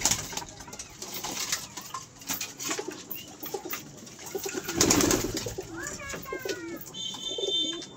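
Giriraj pigeons, including a breeding hen, coo in soft throaty calls nearby, with occasional rustling and a few higher chirps against a busy loft background.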